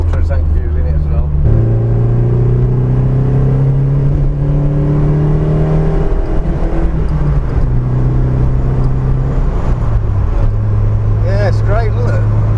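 An 880 kg Vauxhall Chevette engine pulls strongly while accelerating on the road, its steady drone stepping up through gears, heard from inside the car with people talking over it.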